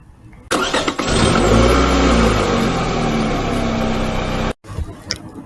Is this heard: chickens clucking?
no